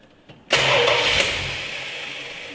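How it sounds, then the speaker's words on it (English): A 1970 Dodge Challenger engine is cranked but barely catches: a sudden loud mechanical burst, then a whirring rush that slowly fades over a couple of seconds, heard close up. "Let's go in here, then we're gonna crank it."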